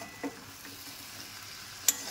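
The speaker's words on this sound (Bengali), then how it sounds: "এবার চিংড়ি মাছগুলো আমি দিয়ে দেবো" Prawns fry in a pan with curry, giving a steady, fairly quiet sizzle broken by two brief knocks of stirring, close up with no voices.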